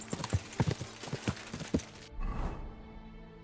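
Horse hooves clip-clop in Kingdom Come: Deliverance II, a quick run of sharp, close hoofbeats that stops abruptly about two seconds in, giving way to a soft rumbling thud and then quiet.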